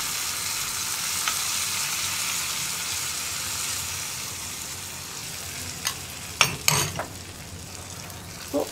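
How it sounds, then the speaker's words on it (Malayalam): Hot tempering poured into a papaya buttermilk curry, a steady bright sizzle with a few sharper crackling bursts near the end, close and alone. "ഇതിനെ നമുക്ക് നമ്മുടെ മോരുകറിയിലേക്ക് ഒഴിച്ചു കൊടുക്കാം അപ്പോൾ ഞാൻ എന്താ നമ്മുടെ വറവ് നമ്മുടെ കറിയിലേക്ക് ആഡ് ചെയ്യാണ്"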